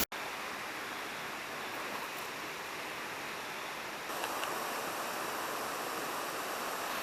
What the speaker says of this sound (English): I'm set up here in front of this pretty amazing waterfall